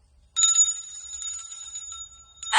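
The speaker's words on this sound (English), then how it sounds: "That's a bell." A small souvenir bell from Mackinac Island rings with a bright, sustained metallic tone that rings out steadily for about two seconds before a short clatter as it is handled; close and fairly loud, with no talking.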